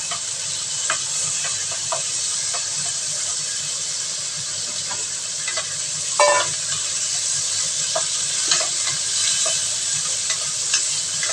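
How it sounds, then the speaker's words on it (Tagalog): Sliced pork stir-frying in hot oil with cooking wine: a continuous loud sizzle and hiss broken by scattered crackles and scraping stirs, with one brief louder burst. "So, halutuin muna natin itong sliced pork."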